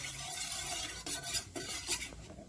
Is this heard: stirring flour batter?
yes